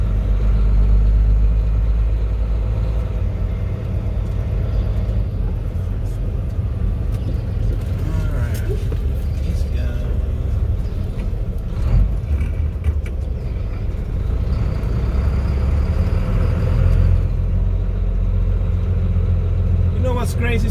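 Steady car road noise on a wet highway in the rain, with a low engine rumble and broadband tire hiss, continuous throughout, with faint voices talking under it.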